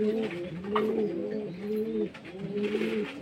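A pigeon coos in a steady, repeating rolling call, close and clear, with a second softer bird voice and faint background chatter behind it.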